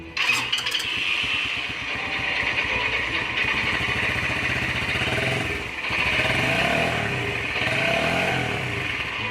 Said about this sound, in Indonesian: Saudara, saya ingin mencoba motor ini.